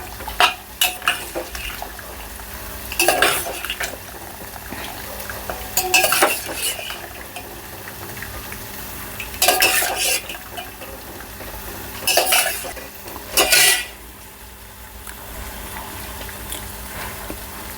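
Boiled macaroni pasta is scooped from a pot into a bowl, with repeated metallic scraping, clinking and stirring bursts of a spoon against cookware, close and without speech.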